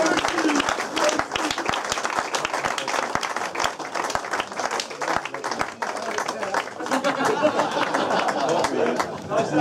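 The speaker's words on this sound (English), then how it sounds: "big round of applause for Paul Rust." Round of applause at a football club's end-of-season presentation evening, with individual claps sharp and close over dense clapping from a room of people, chatter and voices mixed in throughout.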